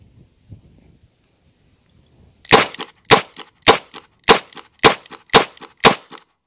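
Seven sharp handgun shots from point shooting practice at three yards ring out close and loud in a quick, even rhythm after a brief quiet lead-in.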